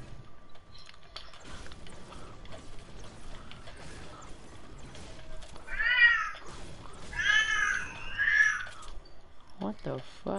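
A pet cat gives a few short meows near the middle, close and fairly clear, mixed in with quiet background talk and rustling, followed by a brief sharp sound at the end.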